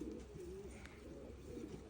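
A recovering pigeon, injured after hitting a high-voltage line, coos softly in low, rolling pulses, the warbling call repeating steadily through a faint background hiss.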